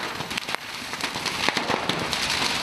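Fireworks bursting inside a burning fireworks shop at a strip mall, rapid crackling pops and sharp bangs layered over a continuous hissing roar, dense and moderately distant.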